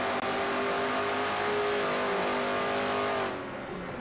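Pontiac stock car engine in a NASCAR racing video game, heard from inside the car as a loud steady high-revving drone that holds for a few seconds and then eases off.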